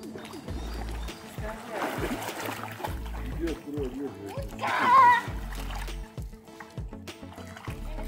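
Someone swimming in the sea, with repeated water splashes at an irregular rhythm, close and fairly loud, mixed with voices and a burst of louder splashing midway.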